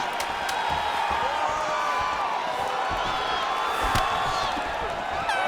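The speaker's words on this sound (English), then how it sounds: "So the crowd absolutely loving it as these fighters work their way back to the feet." A large crowd in a UFC 5 video game fight roars and cheers continuously, a dense wash of voices with occasional whistles and claps rising above it.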